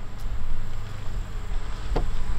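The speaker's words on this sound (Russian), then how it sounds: "Пчелы вокруг нее кублятся." Honey bees buzz around a queen cage inside a hive. The drone is steady and close, with a brief louder pass near the end and no speech.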